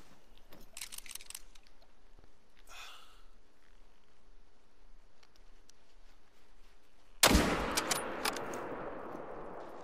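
A rifle gunshot in a caribou-hunting video game set in a Yukon valley. A single sharp, loud crack comes after a quiet stretch of faint ambience and trails off in a decaying echo.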